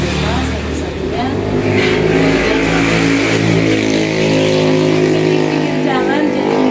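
A motorcycle engine revs hard while climbing an uphill road, a loud, steady mechanical drone that fills the whole stretch, with a voice talking over it.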